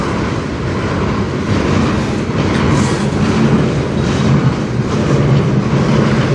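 CN manifest freight train, about 9,300 feet long, hauled by two locomotives rolling past in Sarnia with a steady, loud broadband rumble and rail roar that holds throughout, no voices.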